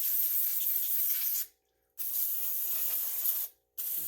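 Brake cleaner sprays into a welded mini tractor differential in two long, loud, close hissing bursts, each cut off by a short silent gap before the spray resumes, with no voices.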